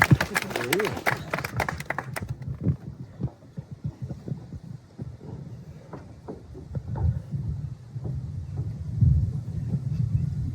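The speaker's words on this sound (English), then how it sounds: "massive round of applause, guys" Wedding guests at an Australian ceremony break into a brief burst of applause, crisp clapping at first that quickly fades into muffled rumble and scattered low thumps.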